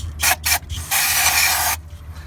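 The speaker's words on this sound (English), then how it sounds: "And I'll give it a little spray just to help it out there." An aerosol can hisses into the carburetor of a crushed Ford F-350 engine in two quick short bursts, followed by one longer steady spray lasting about a second, close by.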